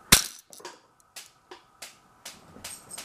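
A homemade mousetrap-powered BB gun fires at a couch: one sharp, loud snap opens, followed by a string of about seven lighter clacks spaced roughly every half second, with quiet between.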